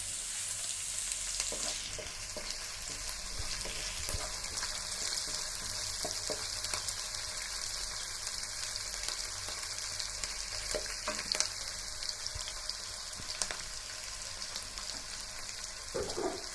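Chopped green chillies fry with garlic and ginger in hot oil in a pan, a steady close sizzle running throughout with occasional stirring scrapes and taps.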